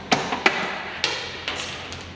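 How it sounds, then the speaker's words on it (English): A big hammer strikes metal on a Mercedes Unimog during service, four sharp ringing blows spaced about half a second apart, close and loud with no talk. "I found this big hammer in the toolbox."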